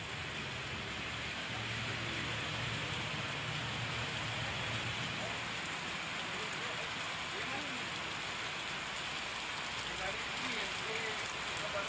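Rain falls steadily in Gondia district, a constant, even hiss of drops on the ground heard at moderate distance, with a low hum in the background.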